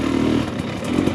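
A Husqvarna dirt bike engine runs at a steady, fairly loud, close buzz with slight rises in pitch, on a snowy trail ride. The sound is brief and unbroken.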